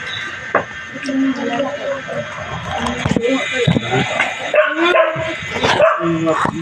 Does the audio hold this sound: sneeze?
no